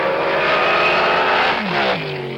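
Loud race car engines roar and rev steadily, with a pitch drop near the end as one passes, a continuous dense engine sound with no talk.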